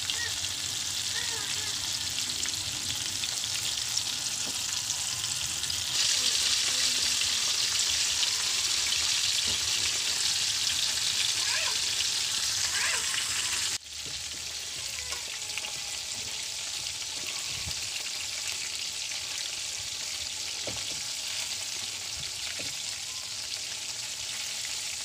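Chicken frying in hot oil for a Filipino fried chicken recipe, giving a steady, close bubbling sizzle with fine crackles throughout that drops slightly in loudness partway.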